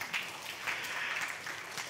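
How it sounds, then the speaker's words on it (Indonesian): An audience at a church gathering claps together in a steady, moderately distant round of applause, with no talking over it. "Tepuk tangan buat kalian semua."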